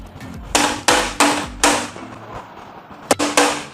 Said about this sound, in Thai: เข้าไปแบบนี้แล้วก็ทำการตอกครับตอก